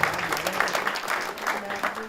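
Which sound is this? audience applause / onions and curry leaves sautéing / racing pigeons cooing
audience applause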